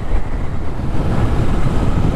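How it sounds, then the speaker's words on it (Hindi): Strong wind blowing outdoors on a soft, cloudy morning near Jammu, a loud steady roar and rumble buffeting the microphone throughout, with no voices. "सुबह कितना मस्त मौसम हुआ हुआ है इतनी हवा चल रही है"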